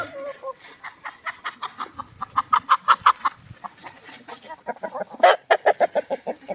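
Young rooster and hens clucking outdoors in a backyard flock let out of the coop, a steady run of short rhythmic clucks and calls, close and fairly loud, with a brief pause midway before the clucking resumes.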